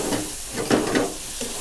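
Basil shrimp stir-fried over high heat in a hot pan with fish sauce and sugar, giving a loud, close sizzle with quick bursts of stirring and scraping over a short stretch.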